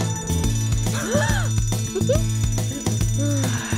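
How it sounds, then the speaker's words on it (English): A fire alarm rings steadily in a children's cartoon, its repeated tone running beneath a bright musical score. "Hear that fire alarm?"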